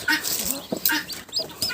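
A broody hen clucks softly among newly hatched Cochin chicks peeping close by, short calls coming in quick, uneven bursts.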